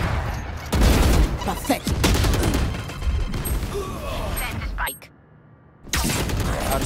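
Rapid Valorant gunfire, with dense bursts of shots and crackling impacts over game sounds and a brief spoken word, a sudden drop to near silence, then the firing resumes loudly.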